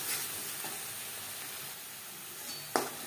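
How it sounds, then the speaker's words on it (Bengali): Ground spice paste with turmeric frying and being stirred in a pan, a soft continuous sizzle with faint scrapes and one sharper clink of the spoon near the end. "মশলা বেশ ভালো করে কষিয়ে নেব।"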